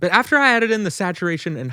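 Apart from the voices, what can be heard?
No distinct noise like a dog, phone or traffic.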